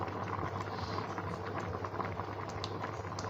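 Cucumber curry boiling in a pot, a steady close bubbling and simmering with soft pops and crackles over a constant low hum, continuous and unbroken with no voices.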